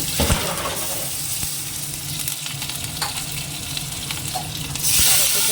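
Dry red and green chillies sizzle in hot oil in a wok, a steady close crackling hiss with a few stirring clinks that swells louder near the end.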